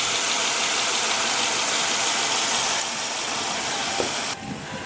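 A 2015 Subaru Legacy's 2.5 L flat-four engine idles with a steady, close hum and a broad hiss, the sound dropping abruptly near the end, with no talking.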